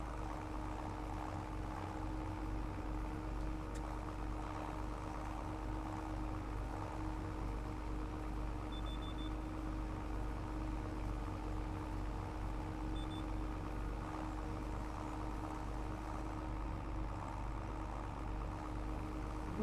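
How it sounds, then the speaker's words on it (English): A tractor mows grass in Farming Simulator 25, its upgraded engine giving a steady, unbroken low drone with a constant hum throughout and no voices. "This engine upgrade was major for us because we can just chew right through this grass, no problem."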